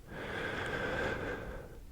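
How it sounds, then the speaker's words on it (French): One deep, slow inhalation drawn in close to the microphone, a breathy rushing sound that holds steady for about two seconds with no talking. "Dans 3, 2, 1, on inspire."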